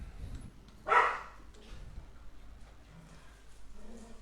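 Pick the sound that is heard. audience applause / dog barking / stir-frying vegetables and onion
dog barking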